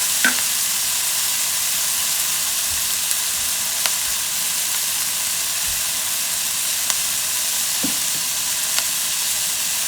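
Butternut squash is stirred with a wooden wok ladle in a hot wok, giving a steady close sizzle with a few soft knocks and scrapes of the ladle.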